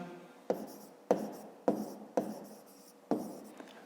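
Handwriting during a fifth-grade maths exercise, heard as five crisp pen or chalk strokes at a roughly steady pace, close and quiet, with no voice.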